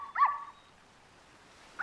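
Cannelle, a small dog trapped inside the bear-head top of a gumball machine, gives two short whimpering yips separated by a stretch of near silence, heard close and clear.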